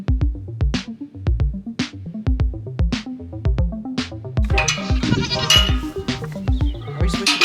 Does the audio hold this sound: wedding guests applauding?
no